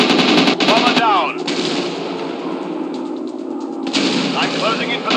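Bursts of machine-gun fire from a World War II fighter plane in a mobile dogfight video game, a rapid chattering stream, loud and close, stopping and then resuming, with a spoken game voice line in the middle.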